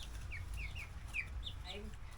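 Baby chicks cheep softly in a series of short, high chirps, faint and slightly distant over a steady low background hum.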